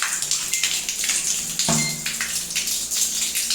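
Domestic tap water runs steadily through a small water turbine on a home supply line, a continuous close hiss and gush with a brief clunk partway through and no talking.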